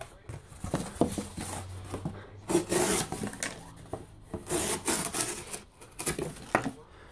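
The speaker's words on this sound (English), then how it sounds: "Makes real easy cuts in cardboard." A Spyderco Paramilitary 2 knife with a saber-ground blade slices through cardboard, making close, scraping and rasping strokes in uneven bursts.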